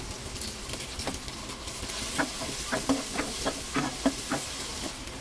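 Tomato paste sautéing in a pan for beef kaldereta gives a soft, steady sizzle with scattered sharp pops and spatters, close and fairly quiet, without any talking.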